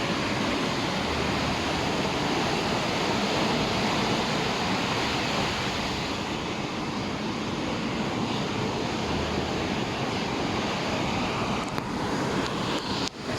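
Sea waves break and wash onto the shore in a continuous loud roar of surf, mixed with wind buffeting the microphone and no voices.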